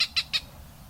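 Three quick, sharp high-pitched calls from Cooper's hawk nestlings in Vancouver, evenly spaced and close, followed by quiet background.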